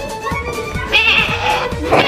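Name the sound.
person imitating a sheep bleating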